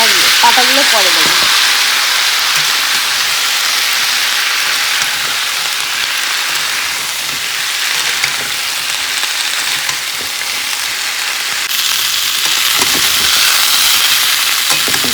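Spinach stalks sizzling in a pan along with potato and taro pieces, a steady loud crackle with occasional stirring scrapes, a brief voice near the start and end.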